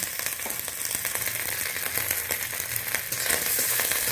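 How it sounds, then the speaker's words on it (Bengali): Ginger paste with garlic frying and being stirred in a pan, a dense continuous sizzle with scraping stir strokes, close and fairly loud throughout, no talking. "এইটা একটু ভালো করে লালচে করে নেড়ে নিচ্ছি।"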